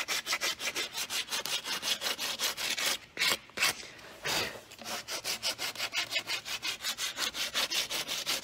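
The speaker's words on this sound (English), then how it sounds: "You can see how you can sand the WoodUbend mouldings, reshape them." WoodUbend wood mouldings being hand-sanded and reshaped, a fast steady rhythm of rasping back-and-forth strokes, close and clear, with a brief pause midway before the scrubbing resumes.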